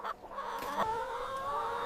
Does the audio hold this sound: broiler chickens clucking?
yes